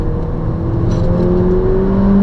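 A Mercedes GLA45 AMG hot hatch accelerating through corners on a drive, its engine note climbing in pitch under power as a steady, loud drone with no talking.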